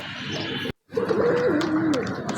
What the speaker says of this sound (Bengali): আমি কবুতর দুটাকে ধরে আলাদা করে একটু চোখ দেখাই দিই আপনাদের